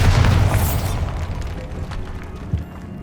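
In Hogwarts Legacy, a Bombarda spell detonates in a loud, deep boom that rumbles and decays over a few seconds, with a small secondary crack near the end.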